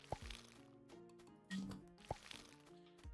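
Crops being watered in the farming game Sun Haven: a few quick splashy plops and drips, each a short sharp burst, with a small watery squish between them against a quiet background.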